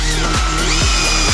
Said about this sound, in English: So let's drill them.